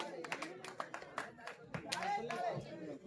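Audience clapping at a village cultural and prize ceremony, scattered rhythmic claps that swell briefly, heard under a loud announcer's voice over a PA.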